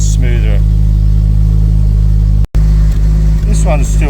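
A 1988 Jaguar S3 V12 idles steadily and smoothly up close, a loud, even low hum with a smooth exhaust note, while a voice speaks briefly over it near the end.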